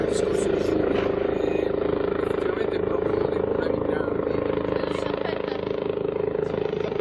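A helicopter flies overhead, its steady rapid rotor chop and engine drone holding constant under people talking, loud and close throughout.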